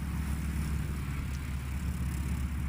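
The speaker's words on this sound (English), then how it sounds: "That's a big airplane." A large airplane takes off at a STOL practice event, its engine roar broad, loud and steady throughout without letup.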